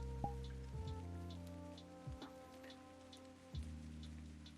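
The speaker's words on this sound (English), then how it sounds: "I know it is raining in this world." Soft rainfall patters in a video game world with scattered faint drop ticks, set under sustained low synth tones and occasional descending musical notes.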